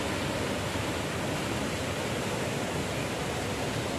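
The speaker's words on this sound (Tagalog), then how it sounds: "Ang daming waterfall." Waterfall in a national park in Tsuen Wan, a steady broadband rushing roar of falling water, loud and unbroken throughout, with no voices.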